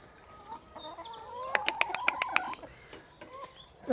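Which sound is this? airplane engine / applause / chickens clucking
chickens clucking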